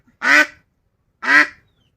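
A duck gives two loud, separate quacks about a second apart while someone tries to catch it, each call short and nasal with silence around it.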